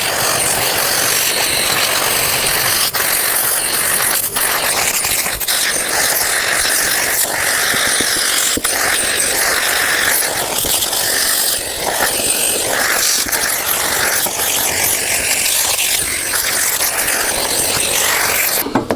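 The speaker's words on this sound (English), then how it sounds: "go around and suck out all the dust from the groove." A vacuum sucks pine dust out of a freshly routed groove in a wooden tabletop, a loud continuous whooshing roar with brief rattles and knocks as the nozzle moves along.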